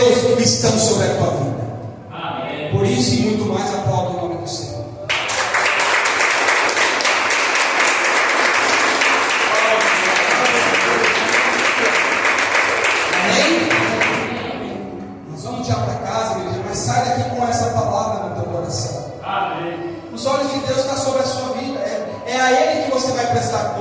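A church congregation breaks into loud, sustained clapping for about ten seconds, with a preacher's voice speaking before and after the ovation.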